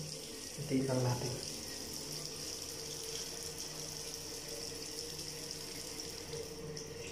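Water runs steadily from a tap, filling for steam inhalation, a faint continuous hiss alone after a brief clatter at the start.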